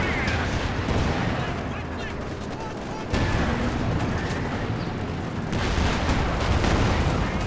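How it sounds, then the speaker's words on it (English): Artillery barrage in Company of Heroes 2 pounds Axis infantry, with dense, continuous rumbling blasts and gunfire layered in loud overlapping waves, heavier bursts returning near the start and again toward the end. "Good barrage coming down on the Axis infantry."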